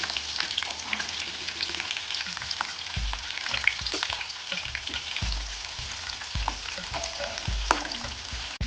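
Green chilies and curry leaves fry in a pan for broken wheat khichdi, giving a soft, steady crackle. Low knocks and stirring thumps from a spoon against the pan come through now and then.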